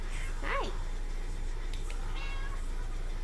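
A cat gives a single clear meow close by, over a steady outdoor background hum on a hot evening.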